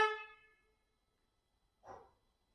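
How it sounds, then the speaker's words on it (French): Horn on a BMW R1200GS motorcycle, fitted with Denali S4 horn and CANsmart controller, sounds one clear close honk at the start, fading over half a second, followed by a second shorter blast about two seconds later. "Quand je klaxonne, il flash."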